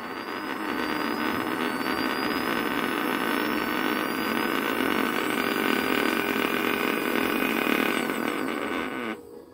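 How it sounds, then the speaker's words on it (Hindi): Small DC motor on a 2A speed control module whirring with a steady, even electric hum and whine at constant speed, close up, stopping abruptly at the end. "ये देखिए, मोटर हमारी देखिए अभी धीरे धीरे चल रही है।"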